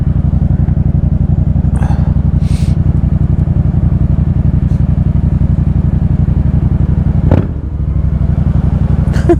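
Yamaha MT-07 motorcycle riding at high speed, its engine droning loud and steady throughout with heavy wind rush, a brief dip and clatter near the end.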